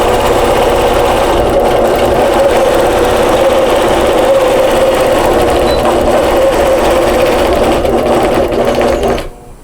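An APQS quilting machine runs continuously and loudly as it stitches a tack on an elastic face mask, giving a steady whirring rattle before it stops abruptly at the end.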